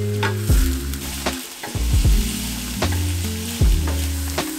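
Chopped green chilies frying with garlic and ginger in a pan over medium-low heat, a close, loud sizzle broken by repeated clanks of the spatula stirring, with no talk.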